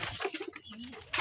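Pigeon cooing, a guest pigeon newly arrived: a short series of soft, rounded coos in quick succession, fairly close, with no voices over it.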